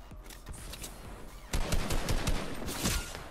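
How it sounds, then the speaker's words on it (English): Gunfire in the video game Fortnite: scattered shots at first, then a denser, louder volley of rapid automatic bursts that keeps going to the end. "I'm getting shot at from the right"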